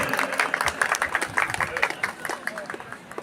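An audience at a Turkish union federation gathering claps as the federation president is invited to the microphone, with scattered sharp claps over crowd murmur and a voice speaking on top.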